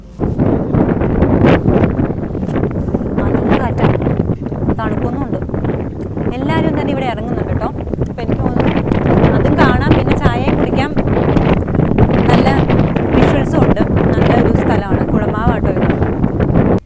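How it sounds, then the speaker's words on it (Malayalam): Strong wind buffets the microphone in a loud, continuous roar while a person speaks over it, on a cold forest route in Idukki, Kerala. "ഭയങ്കര കാറ്റാണ് കാറ്റിൽ ഞാൻ മിക്കവാറും പറന്നു പോകും അത്രത്തോളം കാറ്റുണ്ട്"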